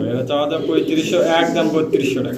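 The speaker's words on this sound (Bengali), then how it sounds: "রানিং পেয়ার ডিম বাচ্চা করা কবুতর দেখেন" Fancy pigeons at a pigeon market coo steadily and fairly loudly, nearby, while people talk over them the whole time.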